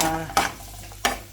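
Garlic and onion sautéing in hot oil in a pan: a steady soft sizzle broken by three sharp scraping stirs of a utensil against the pan, close, with no talking.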